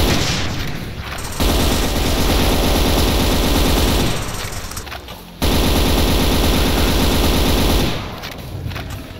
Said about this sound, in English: how can an auto shotgun not be cool?